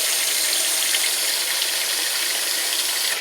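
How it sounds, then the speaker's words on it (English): Boiling hot water gushes steadily over a can of liquid malt extract during red ale brewing, a loud, continuous, close splashing rush with no pauses. "another little trick is to put your liquid malt extract in hot water"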